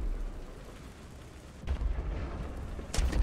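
Tank gun rounds firing French ammunition in the tank combat video game War Thunder, two heavy booming blasts a little over a second apart over a low rumbling engine bed, moderately loud, with no talking.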